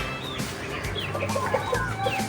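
Several Rhode Island Red chickens clucking and murmuring nearby over a steady low hum, with a few higher calls scattered throughout.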